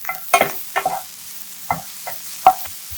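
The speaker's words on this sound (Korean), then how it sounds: "충분히 볶아주세요." Eggplant stir-frying in a pan with a spoonful of olive oil over medium-low heat, heard as several distinct bursts of stirring and scraping against a quiet background, close and moderately loud.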